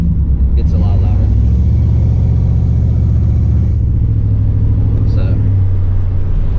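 A car engine with custom exhaust cutouts opened growls loudly and close, a deep rumbling idle with a brief rev swell, while someone talks over it.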